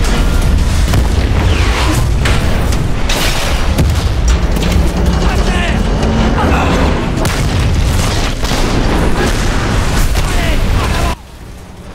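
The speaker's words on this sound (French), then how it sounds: "il y a eu une explosion qui n'était pas la nôtre" Explosion in the video game Medal of Honor Warfighter: a sustained, loud rumbling boom with bursts and crackle over about eleven seconds, cutting off abruptly at the end.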